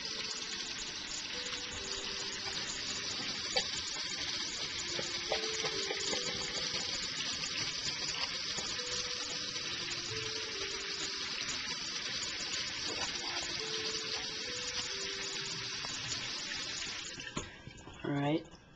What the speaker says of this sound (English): I'll run some water inside there.